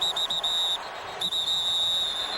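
A referee's whistle blows before the snap at an NFL game, a shrill sustained blast broken by a short gap, then a second long blast, loud and close over crowd noise.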